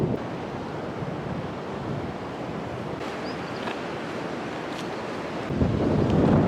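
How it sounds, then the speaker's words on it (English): Strong, cold wind at high altitude roars steadily across the microphone, producing a constant buffeting rumble that grows heavier near the end, with no one speaking. "It's really windy."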